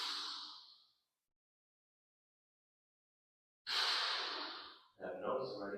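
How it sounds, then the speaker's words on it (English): A person exhales audibly during a side-bending exercise stretch, a breathy rush that fades out, followed by silence and then another long breath with a voice entering at the end. "And exhale."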